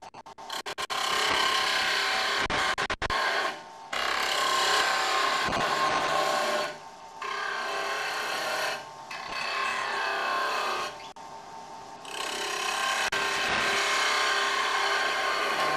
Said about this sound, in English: we need to continue cutting as before. Turn the lathe on and proceed.